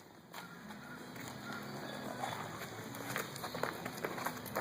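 Horse loping with soft, uneven hoofbeats on damp ground, moderately close, with faint voices in the background.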